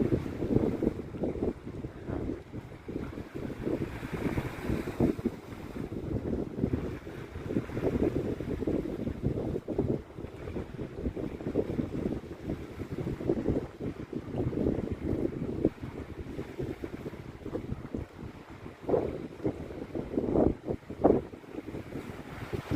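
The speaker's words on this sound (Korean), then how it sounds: "파도 소리 들리죠?" Steady sea surf breaking on the shore of the West Sea coast at Seosan at sunset, a continuous rushing wash with surging swells, heavily buffeted by wind noise on the microphone.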